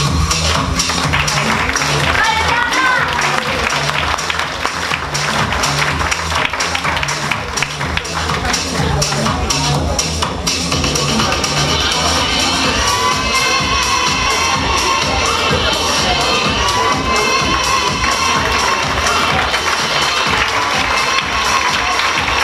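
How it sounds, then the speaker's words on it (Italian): A fashion show audience applauding a model in a black lace dress, loud sustained clapping mixed with crowd noise and cheering, with music and a voice running underneath. "anche a lei l'applauso meritato di questo pubblico."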